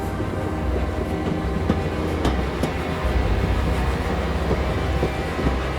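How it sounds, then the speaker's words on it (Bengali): A train pulls away and rolls steadily with a dense, continuous rumble and faint rhythmic wheel clicks and clanks, loud and close, used as a sound effect in a narrated story. "ট্রেনটা চলতে শুরু করলো।"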